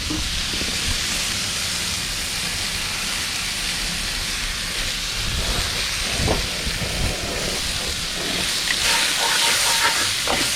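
Pancetta renders in a pan over moderate heat, giving a steady, continuous sizzle and hiss with scattered small pops and crackles throughout.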